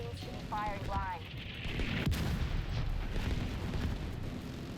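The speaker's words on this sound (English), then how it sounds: "The autocannon seems to be firing blind." Autocannon and mortar fire in The Division 2 send heavy booms and blasts rolling over a continuous roar of battle, with a sharp crack near the middle and voices shouting briefly early on.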